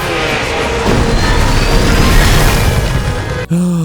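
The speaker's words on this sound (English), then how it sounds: "the entire thing just blows apart into pieces" A loud, sustained explosive roar from the Star Wars: The Clone Wars Battle of Teth as a machine blows apart, a dense close rumble that cuts off abruptly near the end.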